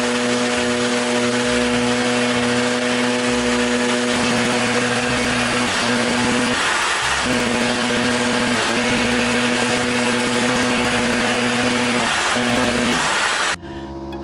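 A power sander with 150 grit works over a wooden fall turkey decoration, a loud, continuous motor whine with two brief dips in load before it cuts off at the end.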